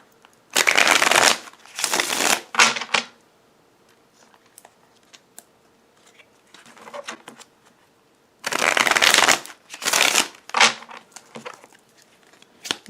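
A deck of tarot cards is shuffled in two separate bouts of quick, crisp riffling up close. Soft handling noises fill the quieter stretch between them.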